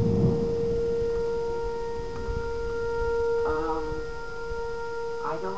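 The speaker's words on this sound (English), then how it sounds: "There go the sirens again." Tornado warning sirens wailing steadily in the distance as a sustained tone over a low background rumble, with brief faint voices or sounds at moments.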